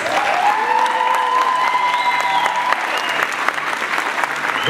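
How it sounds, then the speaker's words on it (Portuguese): A standing audience applauds graduates at a school certificate ceremony, continuous dense clapping from a crowd, with a sustained tonal whistle or cheer sliding over it partway through. "convidarei a todos os presentes a se colocarem em pé para juntos aplaudir os nossos formandos 2023"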